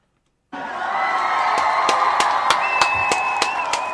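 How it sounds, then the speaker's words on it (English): Audience applause during a live toast broadcast, a fairly loud steady wash of clapping with a few sharp individual claps standing out and a brief whistle partway through. "Give Ujima a round of applause"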